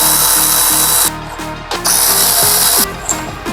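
A power tool whirs in loud bursts while removing the brake caliper bolts on a Suzuki GSXR 1000 motorcycle. The whine rises and falls in pitch, breaks off briefly and starts again, close and with no voices.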